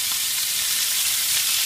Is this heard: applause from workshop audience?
no